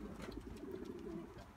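Pigeons coo softly and continuously at a loft, a low burbling murmur close by with faint rustling.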